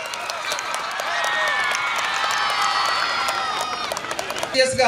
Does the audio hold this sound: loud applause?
yes